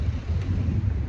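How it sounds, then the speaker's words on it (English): Wind buffets a microphone outdoors near cars at a work site, producing a constant low, rumbling roar with uneven gusty swells and no speech. "Alright, got a little windy"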